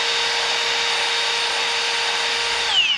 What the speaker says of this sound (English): we're going to take our drill, we're just going to hone out these holes